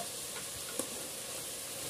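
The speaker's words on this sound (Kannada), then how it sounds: "ಇದೆಲ್ಲ ಚೆನ್ನಾಗಿ ಫ್ರೈ ಮಾಡ್ಕೊಳ್ಳಿ." Chopped tomatoes, coriander and mint fry in a pan with a faint, steady sizzle and soft hiss, and a brief stirring tap partway through.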